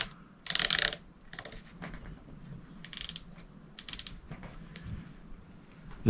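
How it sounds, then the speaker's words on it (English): A main gear shaft being tightened on a Silver Max fishing reel gives several short bursts of crisp ratcheting clicks, close and mechanical, with quiet handling noises in the gaps. "I'm going to grab the main gear shaft there and finish tightening it down"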